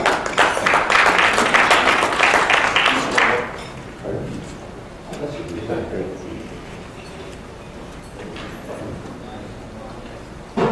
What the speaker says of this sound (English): Please give a warm round of applause for Dr. Sulak.